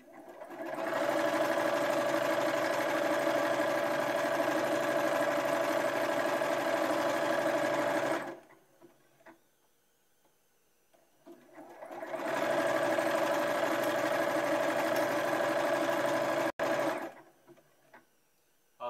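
A sewing machine stitches in two long continuous runs of steady whirring, each about eight seconds, separated by a quiet pause, close and clear with no talking.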